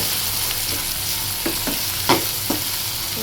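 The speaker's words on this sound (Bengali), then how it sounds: "এইখানে আমি মটরশুঁটি আর বাদাম, কাঁচা বাদাম একসাথে দিয়ে দিলাম, এগুলা হালকা আঁচে ভেজে নিব।" Green peas and raw peanuts frying together in a pan over low heat, a steady close sizzle broken by several light scraping stirs and taps of the spoon.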